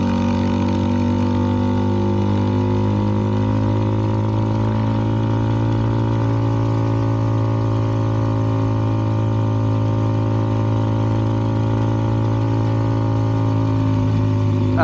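A CFMoto 300NK motorcycle with a KO exhaust carries two riders at a steady cruise, its engine droning loud and close with an even, continuous hum that barely changes pitch.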